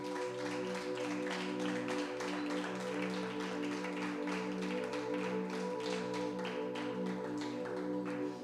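A church congregation claps in a steady, rhythmic pattern during a worship service, the sharp claps layered over sustained keyboard or organ chords that run continuously throughout.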